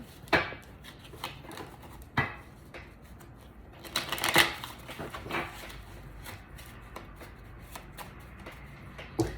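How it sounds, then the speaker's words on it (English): A deck of cards is shuffled in several quick riffling bursts, crisp and close, with brief pauses between them. "let me give it one more shuffle"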